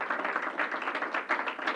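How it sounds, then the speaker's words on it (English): A short round of applause for hospital staff at a healthcare event, with steady, even clapping from a modest crowd. "give you a special round of applause"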